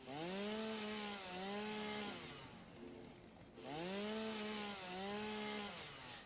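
A chainsaw cutting through bushes revs in two long surges separated by a brief dip to idle, its loud, buzzing engine note rising and falling close by throughout.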